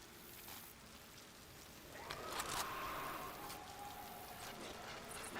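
Rain pours down steadily in a video game, a faint, even hiss of falling drops that swells a little midway, with a few brief game tones over it and no speech.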